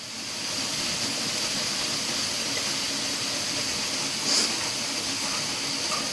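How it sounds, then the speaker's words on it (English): A steady broadband hiss and rumble of pasta water boiling in a pot on a stove, continuous and fairly close, with a brief clink near the end. "I do have my water over there boiling for the pasta"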